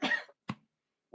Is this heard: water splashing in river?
no